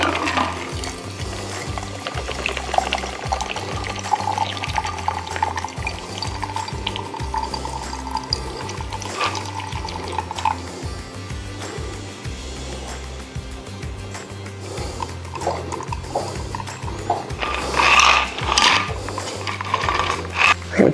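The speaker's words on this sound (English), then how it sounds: "All right, let's give it a pour." A margarita poured from a heavy YETI cocktail shaker, a steady liquid stream splashing into a glass with faint rattling of ice and metal, close and continuous throughout.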